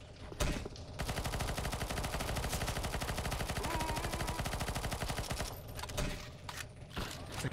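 Rapid, continuous automatic gunfire in the CS:GO Zombies map ZE_SURF_SAHOK during a boss fight, a dense loud barrage of overlapping shots that runs for several seconds and then breaks into scattered bursts near the end.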